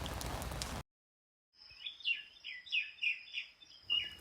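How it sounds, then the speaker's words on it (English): Several bright, chattering common myna calls repeat in quick succession, fairly close and clear against a quiet background, near a closed farmers market in Vietnam. "We saw lots of common myna around the farmer market after it is closed for the day."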